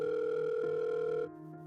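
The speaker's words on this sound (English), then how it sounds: "He dialed a number quickly." A steady telephone dial tone hums as a number is dialed on a cell phone, the held tone shifting pitch partway through with no talking.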